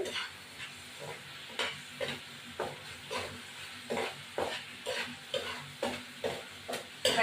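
Spices frying in a pan for an egg and potato curry, with a soft continuous sizzle broken by regular scraping strokes of a spatula stirring, close and with no voices.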